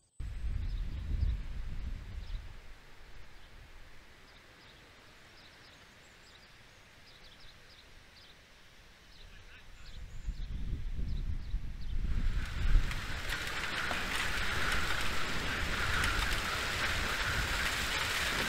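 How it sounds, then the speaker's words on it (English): A summer storm in Iowa in August, with strong wind and rain: a low rumble builds in the middle, then a loud, steady broadband roar of heavy rain and gusting wind takes over for the final seconds, with no voices. "This is a storm in Iowa in August."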